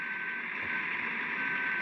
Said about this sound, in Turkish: Korna da çalabiliyorsunuz.